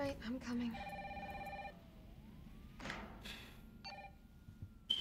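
A telephone rings in the survival horror game Resident Evil 3, with repeated electronic trills in two bursts over a low, steady rumbling backdrop and a sharp thud near the end.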